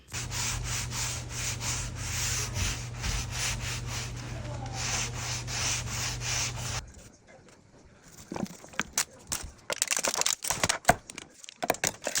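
Wood furniture is sanded during a dining table refinish, with rapid scratchy rubbing strokes in an even rhythm over a steady low motor hum for several seconds, then the hum stops and brief scraping and handling noises follow, close up.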